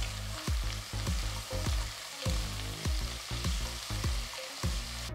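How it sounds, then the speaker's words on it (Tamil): Thinly sliced onions sizzle steadily in hot oil while a spoon scrapes the pan in a regular stirring rhythm, close up. "இது கூட மெலிசா நறுக்கின 2 பெரிய வெங்காயம் சேர்த்து வதக்குங்க."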